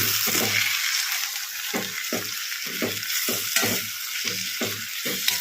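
Tomato rice masala with garam masala sizzles steadily in a pan while a spoon stirs it in a quick, regular rhythm of about a dozen scraping strokes, close and clear with no talk.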